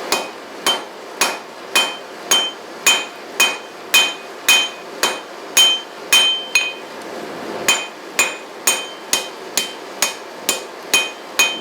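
Steady, ringing half-faced hammer blows forging steel on the far edge of a 66-pound VEVOR anvil, about two per second, sharp metallic clangs repeating evenly and close by with no voices.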